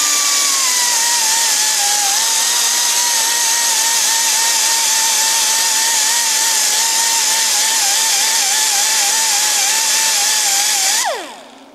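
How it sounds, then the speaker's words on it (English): A small handheld grinder strips the zinc coating from galvanized pipe, a loud, steady high-pitched whine holding for about eleven seconds with slight wavering in pitch, then spinning down abruptly at the end. "you take your little grinder and get rid of that problem."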